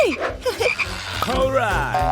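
A frog croaks loudly and close up in repeated bursts of varied pitch, with no talk.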